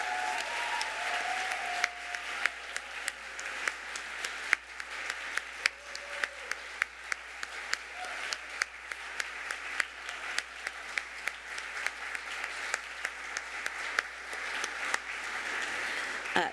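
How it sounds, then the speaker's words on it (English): Steady applause from an audience at an awards ceremony, long and even, with distinct close claps standing out over the crowd, while a voice speaks briefly beneath it. "how about we show them a little love with a thunderous round of applause"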